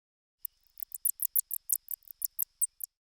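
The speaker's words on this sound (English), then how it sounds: "Bats make sounds that are so high-pitched, it's hard for our human ears to hear them. But if we slow them way down, we can hear the noises they make." Slowed-down bat calls, a quick series of about fifteen short, sharp chirps in a fast irregular rhythm against silence, faint and alone.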